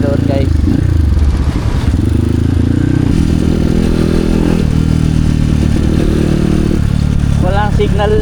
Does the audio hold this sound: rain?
no